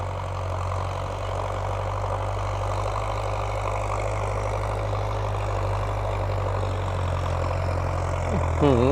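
A John Deere 6110M tractor engine idles with a steady, deep, close rumble that holds even and unbroken throughout, with a brief chirp near the end.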